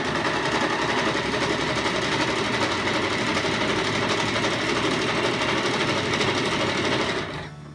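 A sewing machine stitching a straight seam on a DIY car seat poncho, its rapid, even mechanical clatter running loud and uninterrupted for about seven seconds before stopping abruptly.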